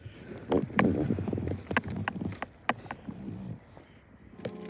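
Keys jangle as someone opens a unit in a railway signal box, giving bright metallic clinks and rattles in short bursts over a quiet room with faint low rumbling.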